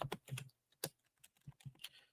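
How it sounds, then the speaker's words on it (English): Computer keyboard typing during a live stream, a burst of several quick key clicks followed by a few scattered, softer taps, close to the mic, with no talking. "Sorry if you hear my typing."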